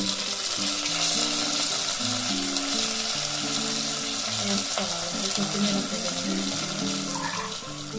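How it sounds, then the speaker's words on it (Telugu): Onions, chilli, ginger garlic paste, coriander and mint fry in a pan with a continuous sizzle, while a background tune plays steadily underneath. "ఆనియన్స్ చిల్లీ బాగా వేగిపోయినాయి"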